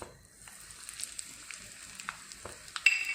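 Mustard seeds and hing dropped into hot oil for a South Indian sambar tempering give a faint, steady sizzle with scattered small pops and crackles, heard close and alone.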